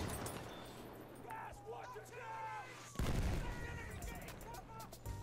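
Mortar shells land in Battlefield 1: a low rumbling barrage with a sharp, heavier blast midway, muffled booms rolling under scattered gunfire and game noise.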